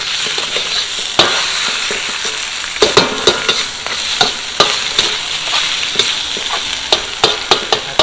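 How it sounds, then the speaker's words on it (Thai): Catfish pieces stir-fried in a pan for a spicy curry, a loud continuous sizzle broken by sharp spatula scrapes and knocks against the pan, with no one talking. "ผัดไปสักระยะหนึ่งจนให้ปลาดุก เริ่มเปลี่ยนสีเป็นสีเหลืองๆนิดนึงเนาะ"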